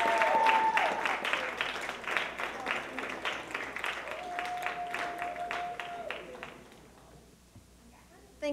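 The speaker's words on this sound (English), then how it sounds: "Let's give them a nice round of applause." Students in a school seminar applaud together, a dense round of clapping that carries steadily with some voices mixed in, then fades away near the end.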